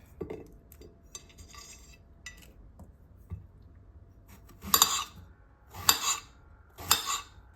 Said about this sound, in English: And I'm doing the same thing with the yellow, just cutting the ends off.